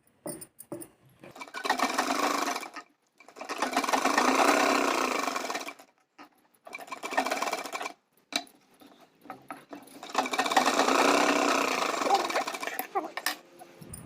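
Sewing machine stitching blouse fabric in long whirring runs with short pauses between them, loud and close, with a rhythmic mechanical chatter.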